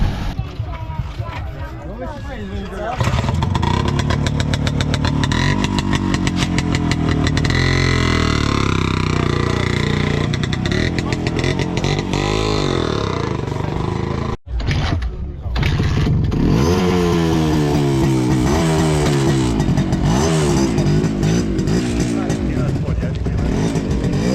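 An old car engine starts up on the way to a classic car meet in Płońsk and keeps running with a rough, fluctuating drone, while several people talk over it throughout.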